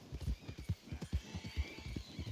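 Horse hooves clip-clopping in Red Dead Online, a quick run of close, even hoofbeats at a brisk pace over a soft background rumble.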